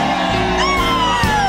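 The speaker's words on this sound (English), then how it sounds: "If you dig the blues, let me hear you scream." Audience at a live blues show in the Old Absinthe House bar screaming and whooping loudly together, a brief burst of overlapping yells and shouts.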